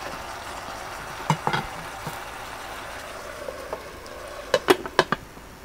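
Chayote shoots stir-fried over high heat in a pan with a little oil and water, a quiet sizzle under scattered sharp clinks and scrapes of a utensil against the pan, close up.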